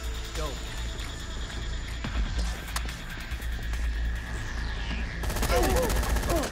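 A split shot weapon in Dead Rising 3 fires repeatedly in clattering volleys amid busy game noise and scattered mechanical sounds.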